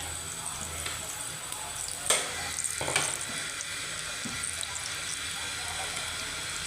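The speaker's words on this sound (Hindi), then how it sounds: "ऐसे ही हम बाकी के भी फ्राई करेंगे।" Peshawari chapli kebabs fry in a pan with a steady close sizzle and a few brief scrapes and clatters as they are handled.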